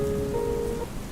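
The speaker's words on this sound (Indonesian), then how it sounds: "Bayangkan suara rintik hujan di atap" Soft rain patters steadily on a house roof at night, a gentle, even wash of drops with faint sustained tones drifting above it.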